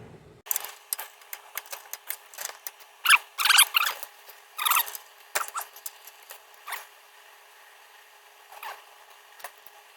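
A wrench turns a control arm bolt on a 2011 Mercedes GLK 350 4Matic, with a series of close metallic clicks and ratcheting scrapes in irregular bursts that thin out toward the end.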